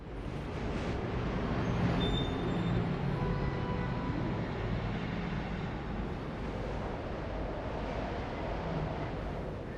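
Low, steady rumble of distant city traffic heard from a rooftop in the video game Mirror's Edge, a faint continuous drone with wind-like hiss and no distinct events.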